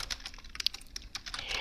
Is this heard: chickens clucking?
no